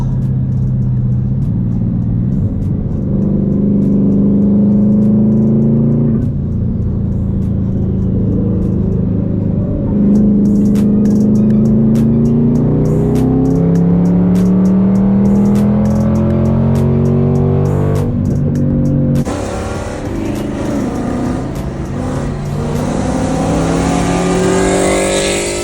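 A twin-turbo Mustang races hard, its engine rumbling loudly and rising in pitch through repeated accelerations and gear changes, with wind roar building near the end.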